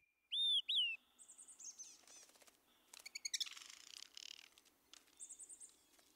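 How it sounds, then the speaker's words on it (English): Black-backed woodpecker calling in a burned forest: sharp repeated chirps and squeaky call notes in loose bursts, fairly close and clear against a quiet background. "Coming upon a fire-dependent species like the black-back woodpecker is really pretty thrilling."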